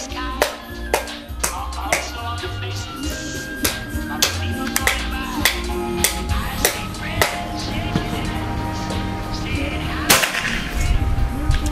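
A PCP air rifle fires repeated sharp cracks at close range, several distinct shots spaced a second or so apart over a steady background, one louder report near the end; someone speaks between shots.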